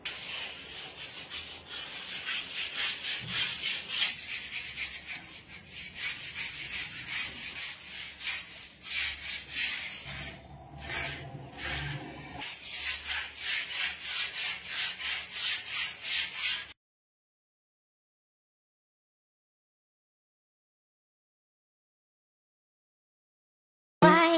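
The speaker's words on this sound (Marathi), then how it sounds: "हा जो सॅन्डपेपर आहे याच्याने घासून घेते भिंत" Sandpaper rubbed by hand across a house wall to strip fine flaking paint before wall putty, a steady rasping back-and-forth scrub for most of the time, then silence.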